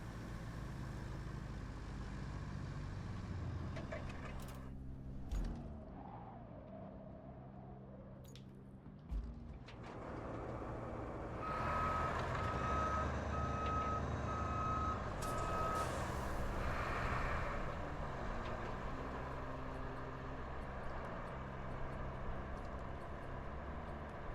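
A mobile crane truck in the game Roadcraft backs up with a steady run of evenly spaced reversing beeps over a continuous low diesel engine rumble, fairly close.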